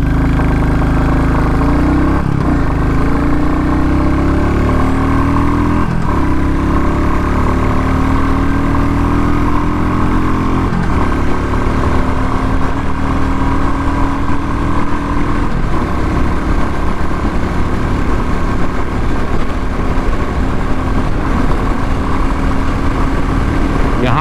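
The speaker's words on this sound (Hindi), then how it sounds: "बाइक 100-110 तो बहुत ही आराम से जा रही है यार" A 2021 Royal Enfield Classic 350 single-cylinder motorcycle runs flat out at top speed, its engine a loud, continuous drone with slowly rising pitch, mixed with steady wind rush.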